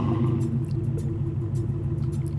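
Muscle car V8 engine starting up in the Roblox game Southwest Florida, a deep, loud steady rumble with a throbbing low idle that holds constant.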